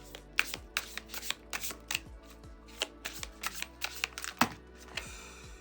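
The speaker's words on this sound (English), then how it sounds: "that's really bad shuffling" A deck of tarot cards being shuffled by hand, with a rapid, uneven run of close, crisp riffling clicks and slaps.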